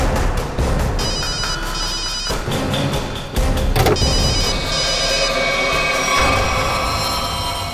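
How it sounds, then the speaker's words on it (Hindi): A mobile phone ringtone plays loudly and repeatedly in a pulsing electronic pattern, with a brief break midway and no talking. "रिंग तो बज रही है।"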